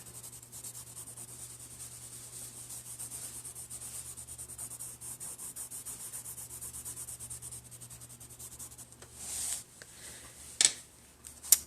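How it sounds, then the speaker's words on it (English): A blending stump rubs graphite across sketchbook paper in a soft, steady brushing hiss, faint and continuous, with a few louder scuffs near the end. "I'll take my blending stump and blend and soften this out."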